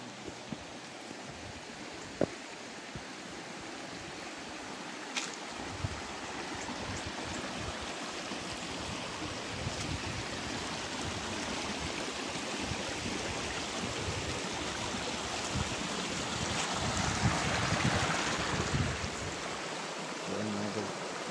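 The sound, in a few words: flowing stream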